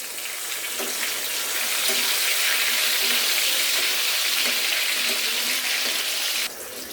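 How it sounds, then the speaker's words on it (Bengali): Turmeric water is poured into hot oil where raw banana chips are frying, setting off a loud, steady, close sizzle and hiss that drops off sharply near the end. "চিপসগুলো অনেকটা ভাজা হয়েছে এজন্য আমি হলুদের পানিটা একটু দিয়ে দিব"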